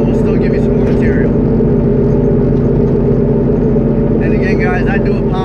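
A high-compression car engine idles with a deep, steady rumble, loud and close throughout, while someone talks over it.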